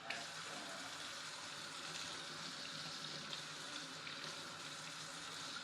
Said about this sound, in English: I'm going to wash all my dishes from cooking. And you get hot water.